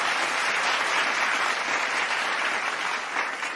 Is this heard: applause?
yes